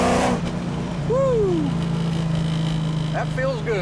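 Vintage Dodge Challenger driving, its engine a steady loud drone throughout, with a brief whine swell early on and faint voices in the background.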